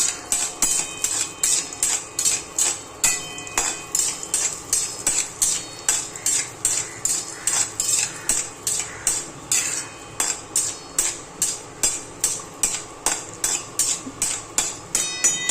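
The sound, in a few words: cashews being roasted and stirred in ghee in a pan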